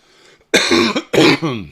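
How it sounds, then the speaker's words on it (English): A man coughs straight into a close microphone during a live Nasdaq futures trading stream, two loud, harsh, throaty bursts about half a second apart, preceded by a faint breath. "I coughed in your ear again"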